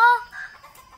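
A chicken clucks once up close at the start as chickens are fed watermelon, followed by softer, fainter clucking and bird sounds that trail off.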